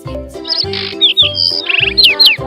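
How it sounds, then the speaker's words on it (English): Sparrow chirping in quick bright bursts of high tweets and trills, close and clear over a repeating low musical beat. "Sparrow."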